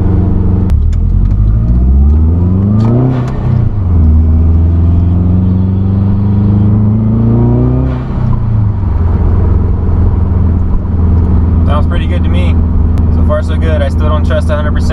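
Subaru car engine after crankshaft and camshaft sensor replacement, loud and close as it drives a couple of laps, revving up through gears in rising sweeps with steady road drone and a voice speaking near the end.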